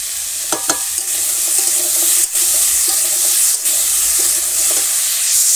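Salt and turmeric stirred with potatoes in a wok: clattering scrapes of a spatula at irregular intervals over a continuous nearby sizzle.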